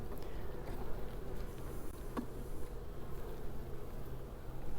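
Honeybees drone steadily around an open hive box during a brood inspection, a continuous close, even buzz with no break throughout.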